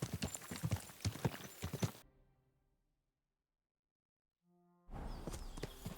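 Horse hooves walk in the video game Kingdom Come: Deliverance 2, a steady clip-clop of close footfalls that cuts to near silence and a brief tone before hoofbeats resume.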